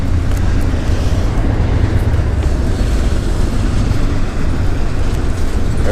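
Train passing near the Mississippi River, a steady loud low rumble of rail cars that fills the whole stretch without pause, heard from close by on the riverbank.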